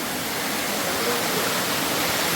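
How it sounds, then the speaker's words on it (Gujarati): Water flowing steadily inside Arwah cave in Meghalaya during rain, a dense continuous rushing roar, loud and even throughout. "તમે જોઈ રહ્યા છો અને અવાજ પણ સાંભળી રહ્યા છો પાણીના પ્રવાહનો."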